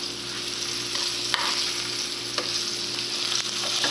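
Onion rings fry in a pan with a steady, close hiss of oil, and a few faint clicks and taps from stirring break through the constant sizzle.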